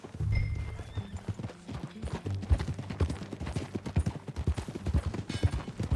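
Horse hooves clip-clop steadily in Red Dead Redemption 2, a brisk, close rhythmic trot with a brief whinny near the start, loud and unaccompanied by talk.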